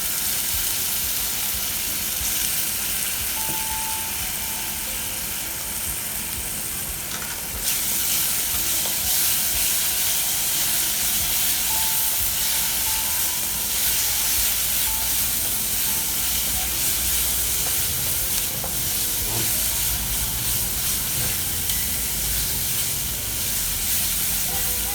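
Onions frying with ginger garlic paste in a pan, a loud, steady, hissing sizzle that swells sharply after the paste goes in and keeps crackling close up with no talk.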